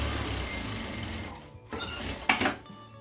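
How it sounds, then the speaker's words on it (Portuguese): A sewing machine runs a seam holding the lining of a handmade fabric pencil case, whirring loudly for about a second and a half, then stopping, followed by a few short mechanical clicks and rustles. "passa uma costura prendendo esse forro"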